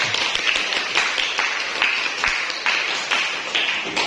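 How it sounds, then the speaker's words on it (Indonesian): A classroom group applauds all the student groups with steady, dense clapping that carries on evenly, with no talking over it. "Kasih aplaus untuk semua kelompok"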